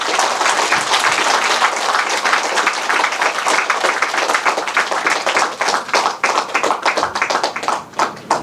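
Audience applause welcoming an elderly guest speaker to the stage at a classical Chinese studies teacher training seminar, a dense, sustained clapping from a large room that thins slightly toward the end.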